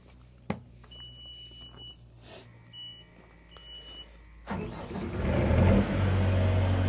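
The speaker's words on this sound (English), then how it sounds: "I'm going to start the machine, start the generator, and show you that the welder powers up." The onboard generator on a 2019 JLG 460SJ boom lift starts up. A few faint beeps and a sharp click come first, then the engine catches about two-thirds of the way in and settles into a loud, steady run.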